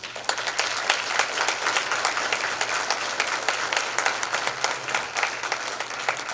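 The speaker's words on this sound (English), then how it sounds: "If we could please give them all a round of applause." An audience applauds new National Honor Society members at a high school induction ceremony, a dense, even stretch of clapping in an indoor hall with no talk over it.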